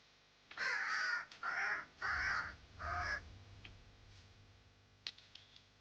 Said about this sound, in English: That was a loud ass crow, bro.